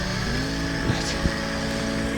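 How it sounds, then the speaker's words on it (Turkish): A car approaches at a forest cabin, and its engine hum builds steadily and then holds, moderately loud. A couple of short knocks cut through partway along, and no one speaks. "arabamız geliyor şimdi"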